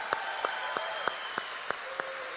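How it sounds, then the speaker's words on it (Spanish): Seven sharp, evenly spaced claps ring out in a steady rhythm over a low, constant room hum as a church congregation applauds during a sermon. "Un aplauso a la palabra de Dios acá."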